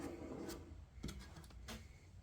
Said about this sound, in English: It's rubbing the belt.